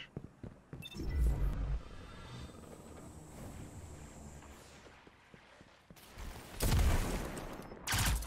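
Blade Barrage ability attack in a video game, bursts of layered impact and whooshing blasts that swell loudly, fade into a busy rumbling background, then return in two more strong surges.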